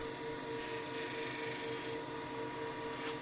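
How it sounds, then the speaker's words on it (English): A skew chisel lightly scrapes the bead of a wooden end-grain bowl turning on a lathe. It makes a steady, close, hissing rasp that gets brighter for a moment partway through and then eases. "Now I'm going to use this part of the skew to just lightly scrape"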